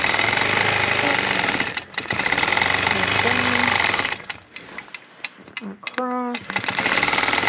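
A sewing machine runs in steady bursts, stitching through a little girl's quilt while someone talks over it, pausing briefly between runs.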